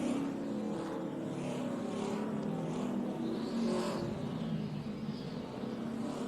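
NASCAR Sprint Cup stock cars roar around the track at the 2012 Capital City 400, a continuous loud engine drone with passing cars swelling and fading in the distance.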